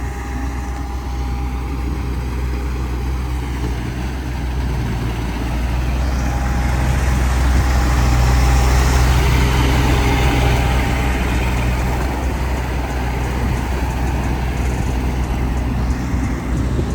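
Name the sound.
Sherp N-1200 amphibious offroad vehicle driving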